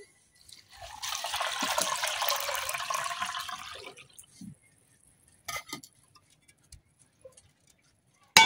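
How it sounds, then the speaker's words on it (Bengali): Water is poured into lentils for thin Bengali masoor dal in a village kitchen, a steady close pouring rush lasting about three seconds, followed by a few faint clinks and knocks of utensils. "যেহেতু আমি পাতলা ডাল রান্না করাম, এই জন্য কিন্তু পানিটা একটু বেশি দিতেছি।"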